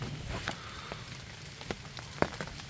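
Rain falling on a see-through hunting blind in the woods, a faint steady patter with scattered sharper drops tapping on the surface, close by and quiet.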